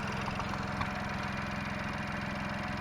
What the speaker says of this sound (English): it sounds kind of like a sewing machine